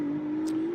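A Ferrari Challenge race car runs at speed on the track at Circuit of the Americas during qualifying, giving a steady sustained engine drone with a faint brief hiss partway through.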